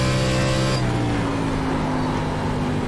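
Simulated ARCA Menards Series race car engine at Phoenix Raceway in iRacing, a loud, steady close-up drone with a shifting pitch as the throttle changes, no talking.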